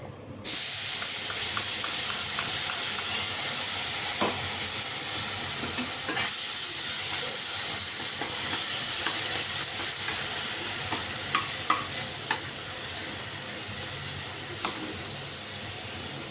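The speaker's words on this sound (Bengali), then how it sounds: "এই পেঁয়াজটা সুন্দরভাবে হালকা হালকা করে ভাজা হতে থাকবে" Onions frying in oil in a pan while cumin seeds toast, a steady close sizzle with occasional stirring clicks throughout, no voices.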